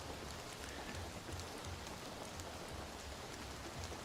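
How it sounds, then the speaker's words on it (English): Steady rain falls continuously outside, a dense even hiss with soft low patter, moderately loud and alone with no voices. "I love the rain sounds. The rain sounds make me happy too."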